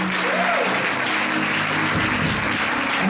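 A church congregation applauds loudly and steadily for about three seconds, a dense wash of clapping filling the hall without a break, with faint voices and a low tone underneath.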